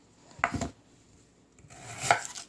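A knife chops radish on a cutting board for dried pollock hangover soup, two short bursts of crisp cuts separated by a quiet pause, close and fairly loud with no talk.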